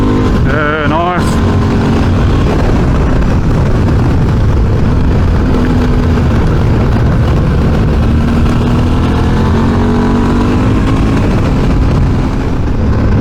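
Motorcycle fitted with Motoz Tractionator Dual Venture tyres riding on a road through twisty bends, a steady loud engine drone and wind rush throughout, with a brief rider's voice near the start.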